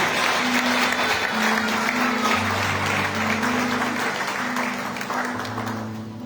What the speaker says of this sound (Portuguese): Então vamos aplaudir o Senhor Jesus